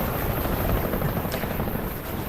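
US helicopters, a fleet of about fifteen flying in from Tan Hiep in Vietnam War documentary footage, make a loud, steady broadband rotor roar that fills the whole moment without a break.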